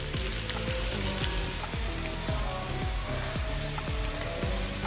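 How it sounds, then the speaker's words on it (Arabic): Diced bell pepper fries in hot oil with a steady, dense sizzle, while a recurring low thudding pulse repeats roughly every half second beneath it; no talking. "توا لهنا عندي قريم فلفل قصيته مكعبات، نحطوه يتقلى في الزيت."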